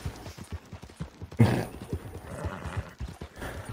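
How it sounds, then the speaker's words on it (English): A horse gallops in Red Dead Redemption 2 with rapid, rhythmic hoofbeats close by, a loud neigh bursting out partway through, then the galloping carries on steadily. "Way to go, Rick. You're the strong horse."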